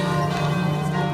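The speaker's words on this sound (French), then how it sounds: "Qu'est-ce que c'est que ces cloches ?" Church bells ring steadily and fairly loud, a sustained sonorous tone with overlapping strikes filling the short moment, no voices present.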